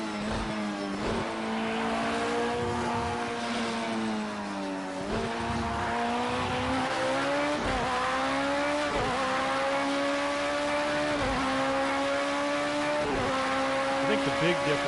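Race cars in Project Cars 2 launch from a Le Mans start, engines screaming loudly and climbing through repeated gear shifts, with a voice talking over the roar.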